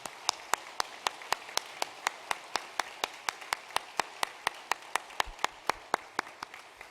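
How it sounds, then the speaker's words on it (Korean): Steady, evenly spaced hand claps from a church congregation giving rhythmic applause during a Korean worship service, crisp and moderately distant, about twenty-five claps in a regular beat with no talking over them. "오늘 하나님께 큰 영광의 박수를 한번 먼저 드리고 말씀을 나누고 싶습니다"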